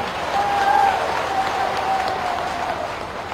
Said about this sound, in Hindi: तालियों की गड़गड़ाहट से ऐसी ताली बजाओ